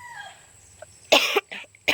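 A person coughs after choking while outdoors on an island gathering vegetables, with a couple of sharp, close coughs following a quiet stretch of faint background noise.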